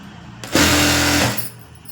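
A sewing machine runs a short straight seam on a blouse, a steady mechanical whir lasting under a second, close and distinct, with quiet room tone before and after.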